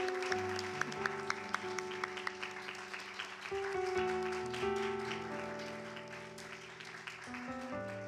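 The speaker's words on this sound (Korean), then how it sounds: "박수 치면서 맞이해 주셨으면 좋겠습니다" A Sunday chapel congregation claps to welcome a staff member to the front, a soft, scattered patter of hands set beneath sustained keyboard music, with a few sharper taps standing out early on.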